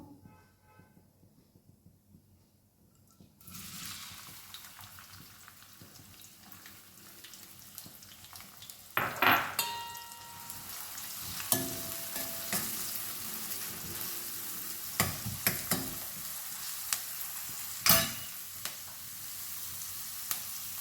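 Onions hit hot oil for a capsicum masala curry and set off a sudden sizzle after a quiet start, then steady frying with intermittent stirring clatters and louder bursts.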